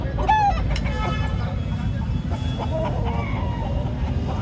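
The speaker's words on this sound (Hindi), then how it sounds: "खूबसूरत और मजबूत मुर्गा है।" An aseel rooster clucks and makes short throaty calls nearby at a Karachi bird market, with faint background noise and some distant voices.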